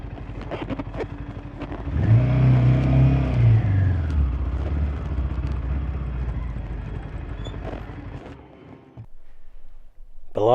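A vehicle turns around on a washed-out mountain track in a Himalayan gorge, its engine rumbling low and close for several seconds before dropping away to near silence.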